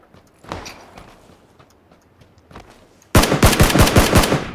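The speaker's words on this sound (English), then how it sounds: "Well, I'm getting shot now." Automatic gunfire in PUBG erupts in a loud, rapid burst of cracking shots in the last second and a half, after a quieter stretch with a few faint distant pops.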